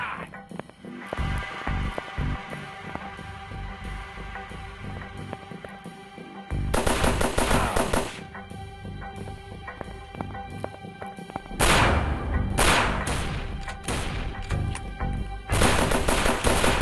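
Gunfire in a mobile counter-terrorist shooting game on Android: sustained bursts of rapid automatic shots with louder, denser volleys mixed among game sounds, continuous and close.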